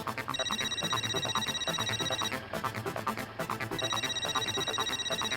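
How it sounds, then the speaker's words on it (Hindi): A telephone rings steadily in repeated bursts with a brief pause, bright electronic tones over a dense background of other sounds. "हाँ मेरा फोन बज रहा है"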